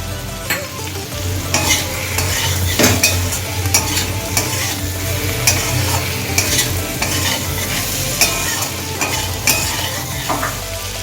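Mourola fish chorchori being stirred with half a teaspoon of chilli powder in a frying pan, a steady sizzle under repeated scraping and clinking strokes of a spatula, close and continuous.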